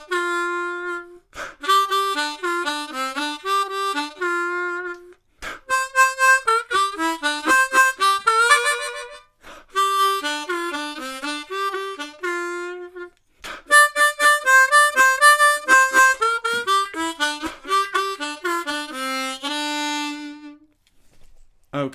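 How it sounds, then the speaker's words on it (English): A solo blues harmonica on a C harmonica plays reedy phrases with bent notes and quick runs in a rhumba blues, pausing briefly between lines, loud and close. "It's a gorgeous solo on a C harmonica."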